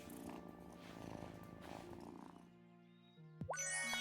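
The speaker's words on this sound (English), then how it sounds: "Pet the cat while we're here." A cat in the Wylde Flowers video game purrs softly while being petted, a steady low rumble lasting a few seconds, then a bright chiming game sound takes over.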